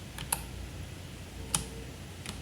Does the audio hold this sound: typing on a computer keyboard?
yes